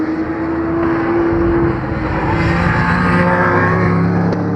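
Porsche and Ferrari race cars lap the Ledenon circuit, engines droning and rising in pitch as cars pass at a steady, loud distance, with a sustained whining tone.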